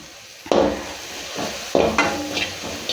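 Tomatoes and green chillies being sautéed in a pan, a close sizzle with a few loud stirring scrapes of a utensil against the pan.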